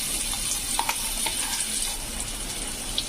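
Ground peanut chutney paste frying in a little oil in a wok, giving a steady close sizzle with soft crackles and a few faint clinks throughout.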